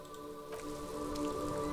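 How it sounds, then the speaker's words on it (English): Rain falls in the video game Disco Elysium as a steady patter of drops over a low background hum, growing slightly louder, with no talking. "It's raining again."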